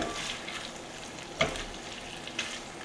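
Garlic added to hot oil in a pan for a gnocchi dish, giving a steady broad sizzle with a couple of brief sharp crackles or stirring taps, close and moderately quiet with no talk.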